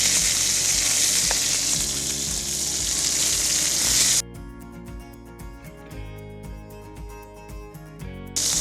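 Meat browning for a cassoulet, with a loud, steady sizzle that fills the pan. About halfway through it abruptly gives way to quieter, thinner crackling with faint clinks, and no voices are heard.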